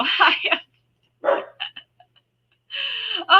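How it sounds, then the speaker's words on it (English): A dog barks and yips in short bursts, close and fairly loud, with pauses between groups of barks and no talking. "dogs just, they have to bark all the time."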